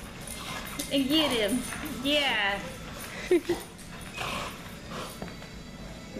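Puppies wrestling in play, giving small growls, whimpers and yips in short bursts close by, with people chatting and laughing softly over them.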